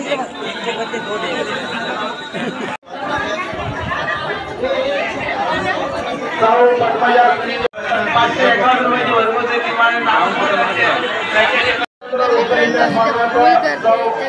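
A packed crowd of devotees waits for darshan at a temple during a yatra, their loud, unbroken babble of many overlapping voices filling the space, with a few brief drops in sound.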